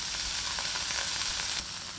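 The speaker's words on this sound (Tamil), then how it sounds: "நம்ம பொரியலுக்கு அடுப்பில் வச்சுருக்கோம், அது கொதிக்குது" Squid thoran with ginger and capsicum cooks in a pan on the stove, giving a close, steady sizzle and bubbling hiss without any talking.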